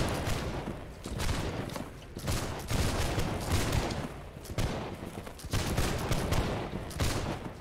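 A line of muskets fires volleys in Holdfast, repeated ragged crackling bursts of massed shots rolling one after another, loud and dense with little pause between them.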